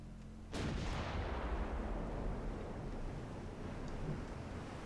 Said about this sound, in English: Oh, they're firing back again. Everyone's shooting things again.